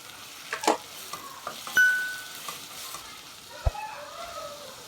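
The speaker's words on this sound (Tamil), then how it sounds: "வெங்காயம் வந்து வதங்கினதுக்கப்புறமா 2 தக்காளி பழம், கொஞ்சமாக கருவேப்பிலையும் சேர்த்து நம்ம வந்து உப்பு போட்டு வதக்கி விட்டுடலாம்." Onions, tomatoes and curry leaves sauté with salt in a pan for potato poori masala, giving soft sizzling with occasional stirring scrapes and a brief clink, fairly quiet and close.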